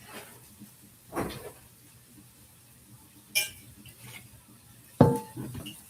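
Cast iron skillet grabbed and handled in a kitchen, three separate clanks and knocks of metal cookware spaced a couple of seconds apart against a quiet background.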